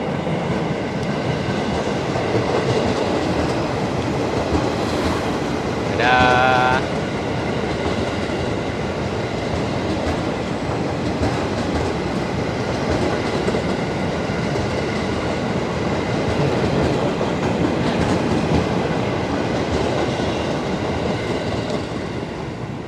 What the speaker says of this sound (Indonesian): Biar KRL-nya lewat dulu deh.